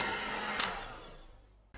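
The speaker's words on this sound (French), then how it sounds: "Et on va continuer à fouetter pendant 2 minutes afin de bien serrer les blancs." Electric mixer whisking egg whites with sugar for floating islands, a steady loud whirring drone that fades slightly before cutting off abruptly near the end, with no voices.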